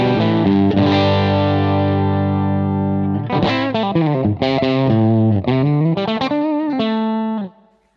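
Electric guitar played through a DSM & Humboldt Dumblifier overdrive pedal into an EV12L speaker: a loud sustained chord rings out, then a run of single notes and bends before cutting off abruptly.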